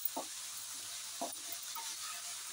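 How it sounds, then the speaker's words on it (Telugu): Fenugreek leaves and tomato fry in a pan for a roti chutney, a soft steady sizzle broken by two short scraping stirs. "కొంచెం ఎక్కువసేపు ఫ్రై చేసుకోవాలి."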